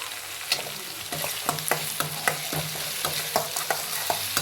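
Turmeric powder frying in a hot pan with oil, a steady close sizzle broken by regular clinks and scrapes of a spoon stirring, no voices.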